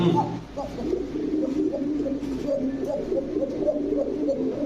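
Pigeons coo in a steady series of low, rolling calls, close and moderately loud, among a loft of mixed fancy breeds, with faint background noise throughout.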